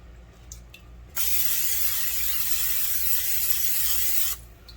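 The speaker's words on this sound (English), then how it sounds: "So I'm using non-stick cooking spray, which is olive oil." A can of olive oil non-stick cooking spray hisses into a pan in one steady burst of about three seconds, close and fairly loud, with faint handling sounds before and after.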